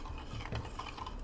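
Instant junnu mixture with turmeric is mixed in a bowl, giving soft, close stirring and scraping. The sounds are quiet and sit under steady low background noise.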